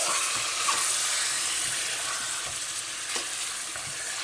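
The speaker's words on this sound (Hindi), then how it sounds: "जैसे जैसे कलेजी भून रही है ना ऑयल में और मसाले जात के साथ" Beef liver (kaleji) fries with spices in oil in a home kitchen, giving a steady, close sizzle with soft hiss throughout and no voices.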